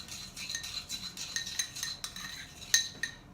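A utensil stirring a homemade beauty blender cleaner mixture in a small dish, quiet rhythmic scraping and metallic clinks against the container, with one sharper clink near the end and no voices.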